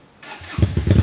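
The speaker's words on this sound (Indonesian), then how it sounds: "Mari kita dengarkan suara knalpotnya." Keway V250 motorcycle with a modified exhaust starting up close by, a brief silence and then a loud, deep, throaty engine note rumbling in quick pulses.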